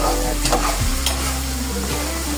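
Tomatoes frying with tamarind in a pan, stirred with a steady sizzle and scraping, close and continuous throughout with no talking.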